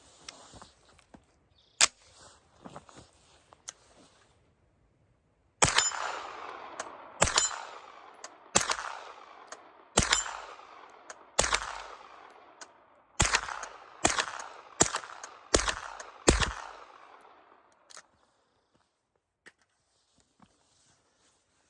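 An SPC9 Pro PDW pistol fires 124 grain Grind Hard ammunition outdoors in a string of about a dozen loud, sharp gunshots. A few quieter clicks come first, then a burst of evenly spaced reports, each with a ringing decay.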